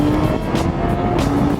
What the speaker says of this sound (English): drop it down into third, drop it down into second